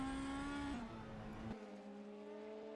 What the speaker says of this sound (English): Just heard the tyre protesting as the brakes locked up